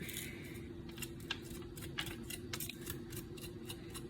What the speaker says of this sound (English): I'm gonna cut this open, and we're gonna try to get the seeds out.